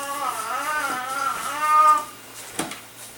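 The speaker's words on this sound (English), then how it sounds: "There's a cat complaining about lack of food." A hungry cat meows indoors, one long drawn-out wavering meow fading out, then a faint short sound after, fairly close and heard alone.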